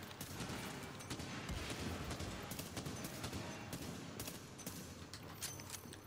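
Rapid, dense gunfire rattles through a firefight in The Division video game, with SVD sniper rifle shots among many overlapping bursts that stay loud and continuous for several seconds.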